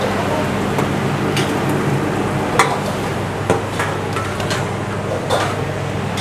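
Beef frying in a pan with spring onion and paprika, a steady loud sizzle with occasional clinks and scrapes of a utensil stirring.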